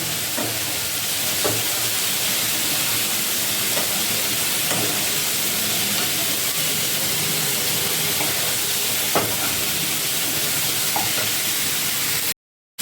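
Tomatoes and onions frying in hot oil in a pan: a loud, steady sizzle with crackles and pops scattered throughout, continuous and close, ending in abrupt silence.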